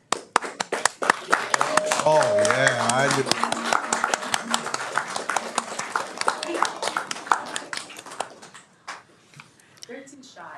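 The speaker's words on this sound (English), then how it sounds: "Let's give them a round of applause." Audience applause at a Daly City city council meeting, scattered claps building and tapering off, with people talking over and around them.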